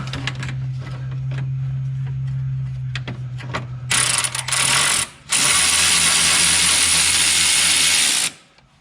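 A wrench working a bolt on a Mazda Miata while fitting a Raceland header, loud close ratcheting clicks followed by a sustained whirring mechanical burst, a brief pause, then another long run.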